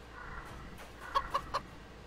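A chicken in the Chkn video game gives a short run of about three quick clucks near the end, close and clear over a low, quiet game backdrop.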